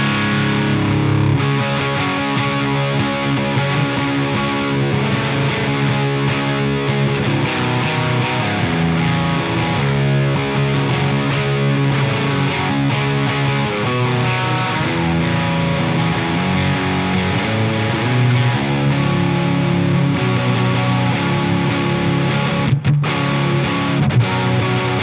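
An electric guitar through a Soldano Astro 20 amplifier plays a continuous, loud, distorted riff with dense sustained chords, steady and unbroken for the whole stretch, with no talking.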